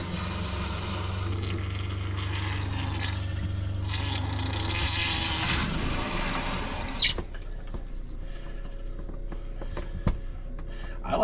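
Pink RV antifreeze runs through the plumbing and into the toilet of a Lance RV as a steady flow of liquid, then gives way to quieter drips, clicks and handling noises.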